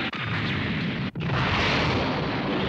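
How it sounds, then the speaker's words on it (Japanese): An explosion in the anime series Mobile Suit Victory Gundam, during an attack on a space colony: a sustained, loud, roaring blast that fills the whole clip, with a brief dip partway through. "爆発？"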